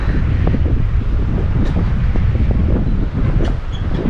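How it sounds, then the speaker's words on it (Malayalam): Strong wind roars steadily against the microphone near a suspension bridge in Kerala, a continuous low buffeting rumble with no voices. "നല്ല കാറ്റുണ്ട് കേട്ടോ"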